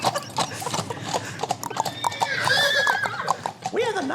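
Horses gallop with rapid clip-clop hoofbeats and whinny loudly, a studio sound effect played live, the neighs rising over the hooves toward the end.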